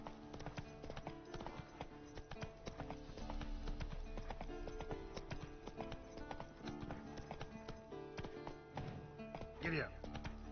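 Horse hooves gallop in a rapid rhythmic clip-clop in the Witcher 3 video game. They are mixed with game sounds, and a voice speaks briefly near the end.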